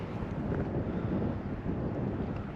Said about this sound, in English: We got a big old storm blowing in from the north though.